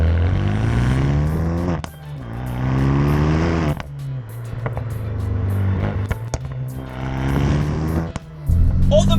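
Renault Megane R.S. 250 Cup hot hatch, tuned to about 320 bhp, with a fully decatted 3-inch exhaust, revving loudly nearby in several rising and falling pulls, with pops and bangs between them.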